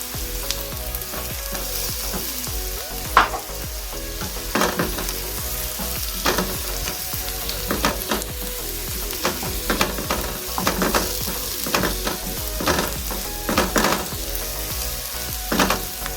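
Ginger fries in a little oil in a pan while being stirred, a continuous crackling sizzle punctuated by repeated scraping and tapping of the utensil against the pan, with no talking.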